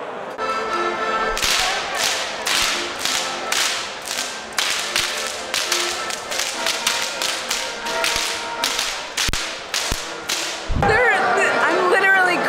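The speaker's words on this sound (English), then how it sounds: "They got whips, y'all." Whips crack in a Munich Oktoberfest beer tent, a long run of loud sharp snaps in a steady rhythm over crowd noise and music.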